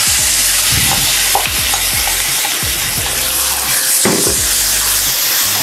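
Chicken stew (ostropel) with tomato juice sizzling in a pot while being stirred; close, steady frying hiss with repeated scraping and clinking strokes of the spoon against the pot.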